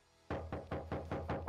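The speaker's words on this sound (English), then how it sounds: "Who is knocking at my door?" Knocking on a door in the horror video game The Slasher: Camp Massacre: about six loud, evenly spaced thuds in quick succession, close and heavy, with no talking.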